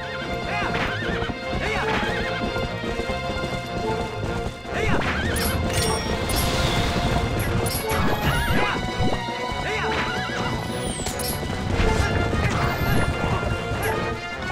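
Horse hooves clatter and a horse neighs repeatedly in The Legend of Zelda: Twilight Princess HD, mixed with crashing explosions and game music, loud and busy throughout.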